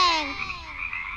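A cartoon frog croaks in a children's rhyme, one short, fairly faint call that fades over about a second, with no voices over it.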